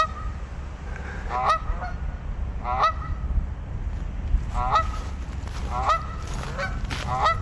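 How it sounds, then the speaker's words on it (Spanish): A flock of wild geese honks in a ragged series of loud, nasal calls arriving in bursts every second or so, set against a steady low rumble of background noise. "Más adelante nos topamos con una parvada de gansos salvajes que están listos para hacer su interpretación"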